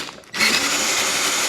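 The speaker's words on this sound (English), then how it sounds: "now we'll drill these" A power drill starts up and bores into a part clamped in a vise, a steady, loud whirring grind that holds for over a second after a quiet lead-in, with no talking.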